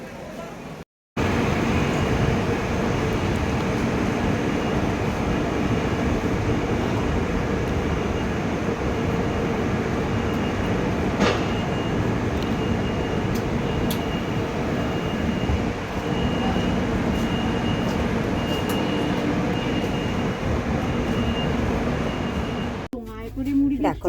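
Heard from on board a moving train, a loud, continuous rumble and rattle fills the whole stretch, broken only by a brief dropout near the start and a shift in the final second.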